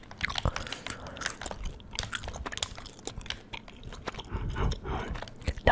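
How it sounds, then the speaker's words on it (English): Close, wet chewing of strawberry bubblegum with steady smacking and crunchy bites, continuing for several seconds with no talking and faint game-controller sounds behind it. "Nothing better than chewing strawberry bubblegum"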